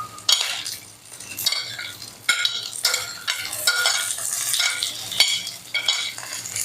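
Onions and grated coconut frying lightly in a spoonful of oil in a pan, with steady sizzling broken by repeated scraping stirs of a spoon against the metal, close and fairly loud, no voices.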